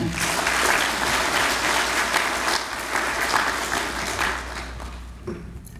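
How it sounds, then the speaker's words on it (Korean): Steady, dense applause from a conference audience greeting a keynote speaker, sustained for several seconds before tapering slightly at the end. "큰 박수 부탁드립니다."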